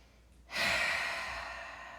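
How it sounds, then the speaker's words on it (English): A single long exhale out through the mouth during a guided meditation, close and soft, rising suddenly and then slowly trailing off. "Take a nice inhale here and exhale it out your mouth."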